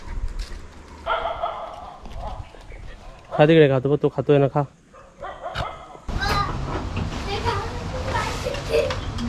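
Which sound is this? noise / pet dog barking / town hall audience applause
pet dog barking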